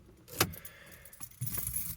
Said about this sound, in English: I'm gonna turn off my car here